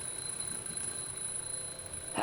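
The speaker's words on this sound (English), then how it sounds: "The alarm goes off." An alarm clock ringing in the game The Dream Machine, a continuous bright high-pitched tone holding steady throughout, with a rising noise at the very end.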